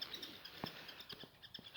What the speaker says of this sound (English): There's lots of birds singing